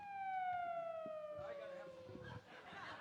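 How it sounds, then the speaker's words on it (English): A siren wailing as it falls in pitch, loud at first and fading over a few seconds into a muffled background where a voice talks. "That sounded like my siren."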